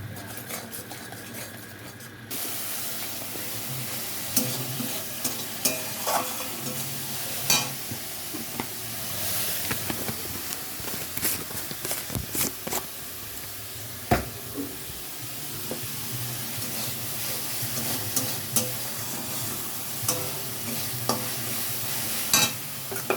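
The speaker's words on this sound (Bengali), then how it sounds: "দেখো আমার মশলাটা কষানো হয়ে গেছে" Masala with turmeric, salt and Kashmiri chili powder sautés in a pan, a steady close sizzle under repeated spoon scraping and stirring, with occasional sharper metallic knocks and no talking.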